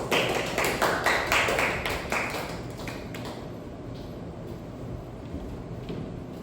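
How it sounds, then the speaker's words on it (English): Applause from an audience, a dense wash of clapping that is strongest at first and then settles into a steady, softer patter. "Let's give him a warm round of applause."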